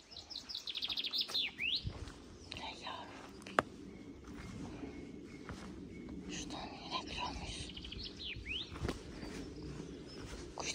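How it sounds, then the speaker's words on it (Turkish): Birds chirp and tweet in Swiss nature, scattered bright calls repeating across a quiet outdoor background, with people speaking softly nearby and occasional footsteps. "Kuşlar birbirlerine"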